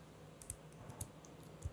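Keys on a computer keyboard tap out a short command, several quick, soft keystrokes in an uneven rhythm against quiet room hiss.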